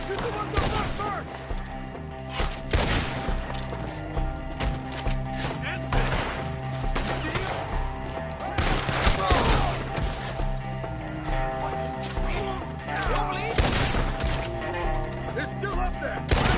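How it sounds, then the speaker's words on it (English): Repeated gunshots ring out in Red Dead Redemption 2 during a fight with enemies up in a tree, sharp cracks spaced unevenly across the scene while voices shout over the firing. "Shoot the ones up front first!"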